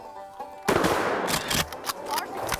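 Shotgun or rifle shot during a youth squirrel hunt in the woods, one sharp close report followed by rustling and scattered crackling noise, with faint talk before it.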